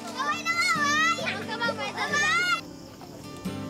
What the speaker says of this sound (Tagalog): Sa kabila ng hiyawan na tawanan ng mga bata